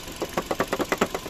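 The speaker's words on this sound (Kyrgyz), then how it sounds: "Мотор жагы боюнча көрүп турасыздар. Жакшы эле от алып турат." A manual 2016 Hyundai Solaris with a 1.6 engine idles close by, its steady rhythmic pulsing beating about eight times a second with a slight knocking edge, heard alone with no talk.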